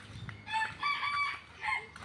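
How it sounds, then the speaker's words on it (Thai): Chickens kept in a cage cluck and crow in a few short, rising calls close by, fairly quiet, with no voices present. "เราได้ไก่น้อยครับก็มาเลี้ยงในกรงนี่นะครับ กันหมากันแมว"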